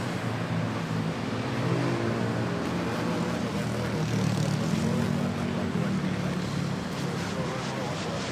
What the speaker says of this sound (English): And then we have another prop, ATR 72600.